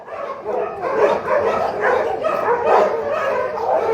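Several dogs bark and yip continuously at a Tbilisi animal shelter, overlapping yaps and whimpers filling the enclosure at close to mid range with no pause.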